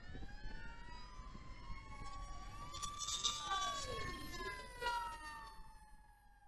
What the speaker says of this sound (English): let's let the fire truck go by, because I don't know if you guys can hear me over it.